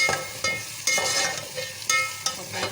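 Potatoes fry in hot oil in a pan for tikka biryani, giving a close, continuous sizzle broken by a few sharp stirring scrapes.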